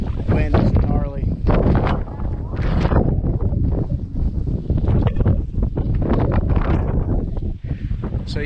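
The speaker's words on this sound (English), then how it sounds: "wind is gnarly." Strong wind buffets the microphone at Fort Morgan, Alabama, a loud, constant roar running through the whole stretch, with people talking over it.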